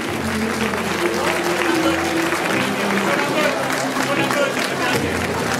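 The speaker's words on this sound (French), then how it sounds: "Alors là, je crois qu'on peut l'applaudir." Audience applause at a half-marathon prize-giving ceremony, a dense, steady wash of many hands clapping that holds loud for the whole stretch, with crowd voices and babble mixed in beneath.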